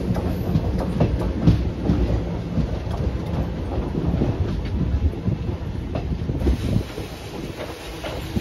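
The Tirupathi Express, running from Tirupathi towards Kakinada Port, rumbles steadily from inside, a loud continuous low roar with faint rhythmic clatter, easing slightly near the end.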